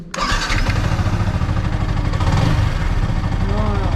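A Yamaha R15M 2023 motorcycle engine cranks and starts, catching almost immediately and settling into a loud, close, steady idle rumble.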